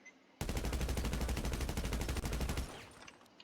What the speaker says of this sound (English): just to give you guys 20 rounds at fully automatic